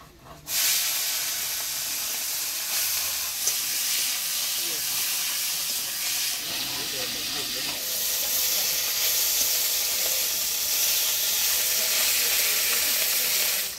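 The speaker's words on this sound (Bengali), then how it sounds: "এবার গুলশা মাছটা ভাজে নিব" Gulsha fish frying in hot oil gives a steady, loud hiss and sizzle that fills the whole stretch, with faint bubbling underneath and no pauses.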